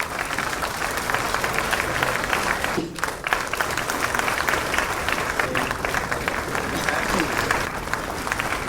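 Crowd at a government appointment letter ceremony keeps up loud, continuous applause, dense and even, with a brief dip midway and faint voices underneath.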